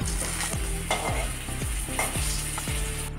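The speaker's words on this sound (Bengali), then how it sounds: "ভালো করে উল্টে পাল্টে ভেজে নিতে হবে যেন কাঁচা না থাকে" Pointed gourd slices fry in a pan with a constant bright sizzle, while a spatula scrapes and turns them in repeated strokes about every half second, close and steady.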